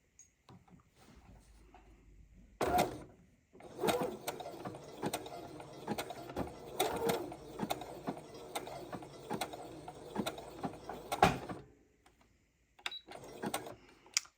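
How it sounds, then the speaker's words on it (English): A domestic sewing machine zigzag-stitches across the edge of a crocheted trouser seam, a quiet rapid mechanical clatter running for several seconds between clicks and brief pauses, no voices. "So I'm going to zigzag across that edge to support that seam, to stop it from coming apart."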